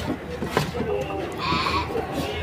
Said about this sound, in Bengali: ছাগল আছে আজকে, প্রচুর ছাগল আছে।